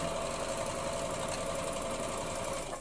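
A sewing machine stitching two pieces of fabric for patchwork and quilting, a steady, even mechanical whir with a constant hum that runs without a break, close by and with no talk.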